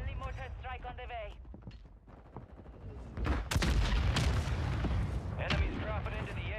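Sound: friendly mortar strike from video game Call of Duty Warzone

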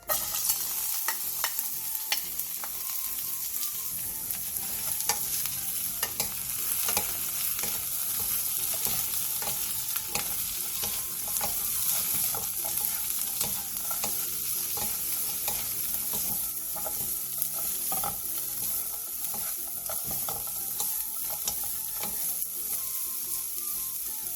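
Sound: burdock root stir-frying in perilla oil in a pan

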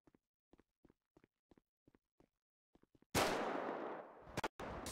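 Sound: Thompson submachine gun firing in a video game

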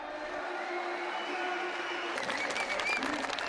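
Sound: crowd cheering and applauding

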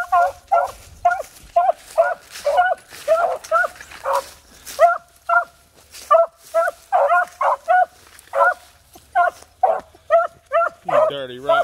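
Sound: dog barking

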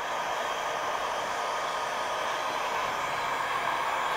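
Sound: heat gun or hair dryer blowing

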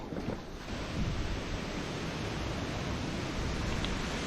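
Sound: strong wind

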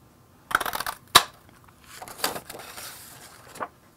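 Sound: daisy craft punch punching out paper flowers

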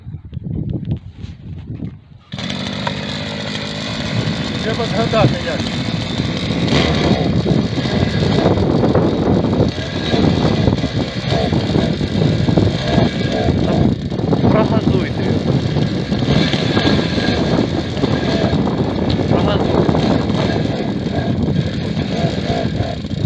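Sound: motor cultivator engine running

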